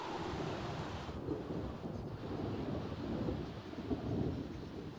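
Thunderstorm ambience in The Sims 3 video game: steady broadband rumble of heavy rain and rolling thunder, continuous and fairly loud throughout, with a slightly stronger thunder swell near the end and no voices.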